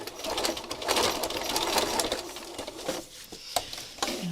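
A sewing machine runs steadily, stitching fabric about an inch from the edge, with a loud close whir that slows and stops near the end, followed by a few short clicks.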